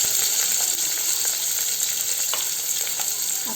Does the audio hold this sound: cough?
no